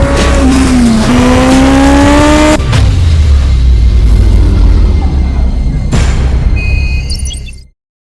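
A motorcycle engine revs hard at close range, its pitch climbing and dropping through several throttle blips in a loud, continuous roar that stops abruptly at the end.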